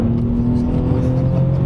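A Subaru Legacy 3.0 Spec B pulls hard at full throttle through a corner, its engine holding a steady, droning tone under sustained acceleration, heard from inside the car with no talk.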